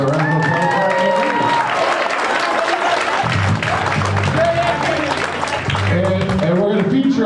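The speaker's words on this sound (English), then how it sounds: "So round of applause for Aaron." An audience at a high school jazz band fish fry claps and cheers loudly throughout, and a voice talks through part of it.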